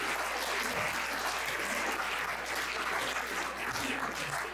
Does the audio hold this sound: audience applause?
yes